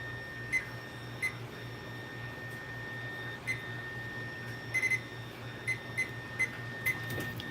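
A microwave oven runs at half power with a steady low hum, punctuated by several short beeps scattered across the stretch.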